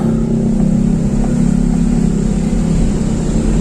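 Dense night traffic near Center Point of Indonesia, with a steady, loud rumble of car and motorbike engines and a constant low drone close by, with no one talking.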